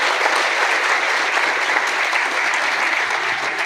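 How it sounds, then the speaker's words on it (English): Steady, dense applause from a seminar audience honouring the Indian Army at a gender equality event held by 26 RR, loud and continuous throughout with no break. "give a great applause to our Indian Army for conducting such"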